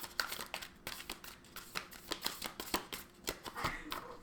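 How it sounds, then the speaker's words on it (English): Crisp, rapid riffling and snapping of a stiff, new tarot deck being shuffled by hand, in quick irregular bursts, close and fairly quiet. "These are so hard to shuffle."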